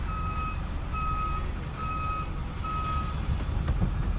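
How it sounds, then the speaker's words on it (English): A truck's reversing alarm beeps in a steady repeating rhythm as it backs into a loading dock in an icy parking lot, loud and close over a continuous low engine rumble. "Backing down into a dock right now."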